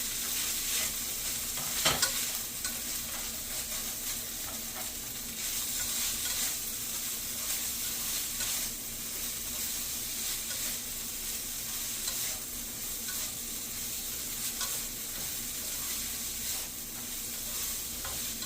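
Shredded tofu pushed around in a hot pan, a steady bright sizzle and crackle of frying with occasional scrapes of stirring, close and continuous with no talking.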